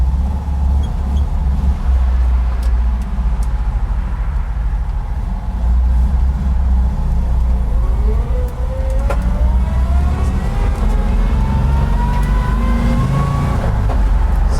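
A 1958 Volkswagen Transporter T2 split-windscreen van accelerates in first gear, its engine drone loud and close with rising pitch as the revs climb, heard from inside the cab.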